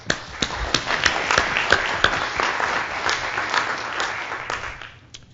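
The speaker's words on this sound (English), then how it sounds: "join me in a round of applause for all the staff, presenters, and attendees, both past and present" Conference audience applauding staff, presenters and attendees at a LISA17 systems administration talk, a steady dense clatter of many hands with a few sharper claps, fading out near the end.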